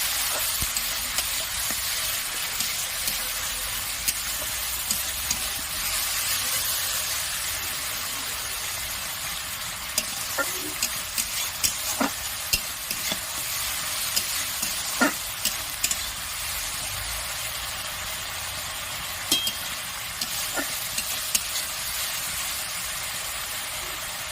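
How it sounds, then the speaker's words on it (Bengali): Tomato paste sizzles steadily in hot oil as it is stir-fried with spices for a Bengali aubergine dish, a continuous frying hiss punctuated by sharp spatula scrapes and clicks against the pan. "এবার আমাকে টমেটো পেস্ট দিয়ে দেবো, সুন্দর কষিয়ে নেবো।"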